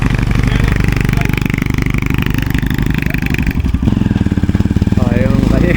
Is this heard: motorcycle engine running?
yes